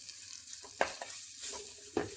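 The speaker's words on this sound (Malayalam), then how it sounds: "ഇനി ഇതെല്ലാം കൂടി ഒന്ന് മിക്സ് ചെയ്ത് കൊടുക്കാം." A spoon stirring coriander powder, pepper powder and masala in a hot frying pan, giving a soft continuous sizzle broken by a few sharp scrapes and knocks against the pan, close by with no talk.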